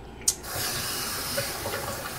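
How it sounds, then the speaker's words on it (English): Tap water runs steadily into a sink while a vacuum cleaner is being cleaned, a constant soft hiss after a brief clink at the start, fairly quiet with no talking. "A little bit of water."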